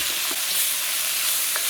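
Onions caramelising with a little salt sizzle steadily in a pan, with a few short scraping stirs over the frying, close and without talk.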